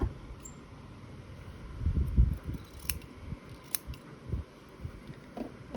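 Scissors trimming the seam allowance of a fabric French seam, a series of soft close snips and rustles with a stronger cluster near the middle, no talk.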